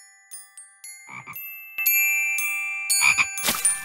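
Cartoon frogs croak in a Curious George frog-chorus video game, with short croaks added one after another over chiming, tinkling game tones that build into a fuller chorus.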